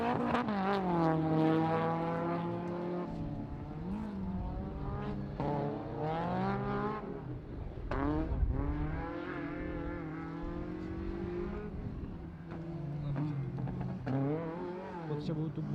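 Racing car on an autoslalom run, its engine revving and shifting continuously with rising and falling pitch, loud and close throughout, with an announcer talking over it.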